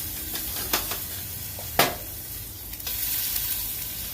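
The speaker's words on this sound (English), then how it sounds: "Oh, I love to hear that sear," Food searing in a hot pan, a steady close sizzle broken by a few sharp pops and crackles as it is stirred.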